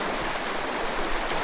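A big, flat, uniform wild western river flows with a constant, even, broad rushing wash of water and no other sounds.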